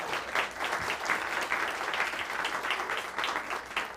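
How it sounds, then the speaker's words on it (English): Steady applause from a crowd at an energy conference open-mic event, full and continuous with a busy, even texture of many hands clapping throughout. "let's give them another round of applause."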